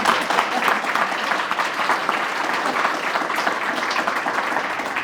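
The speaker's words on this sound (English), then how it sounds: "So I want to applaud them one more time" An audience in a room claps together continuously, a dense, even wash of applause that holds steady from start to finish without pause.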